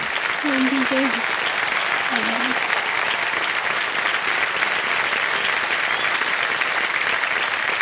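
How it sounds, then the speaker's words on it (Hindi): A studio audience on the KBC quiz show set applauds loudly and steadily the whole way through, a dense, even wash of clapping with a voice speaking briefly near the start. "तालियां बजती रहे"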